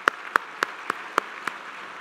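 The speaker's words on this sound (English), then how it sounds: "So can we give them a round of applause?" Audience at an Oakland School of the Arts host breakfast claps in a sparse, evenly spaced rhythm: about six crisp, separate claps over two seconds rather than a dense wash of applause.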